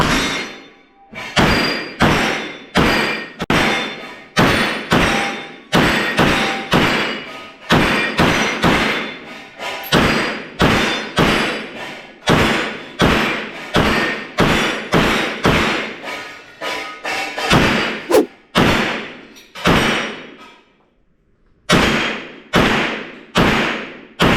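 Pistols fired in quick succession at an indoor shooting range: roughly thirty-five sharp, loud reports spaced about a second apart, each with a short reverberant tail, with a brief pause near the end.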